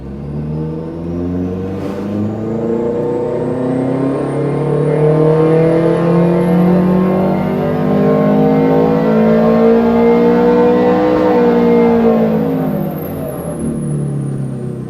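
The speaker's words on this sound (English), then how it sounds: "So let's do a run on our dyno now" A car engine roars steadily and loudly on a dynamometer, its pitch climbing through a long sustained rev before easing off near the end.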